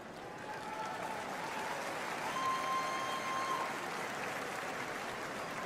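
Sustained applause from a large crowd at a political convention speech, heard from a distance as a steady, even wash of many hands clapping without a break.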